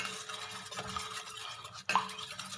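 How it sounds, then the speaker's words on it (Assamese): Eggs being mixed by hand in a bowl for homemade cupcake batter make soft, rapid whisking and stirring sounds, close and faint, with an occasional light clink against the bowl. "এতিয়া মই গোটেই কণীখিনি মিক্স কৰি ল'ম"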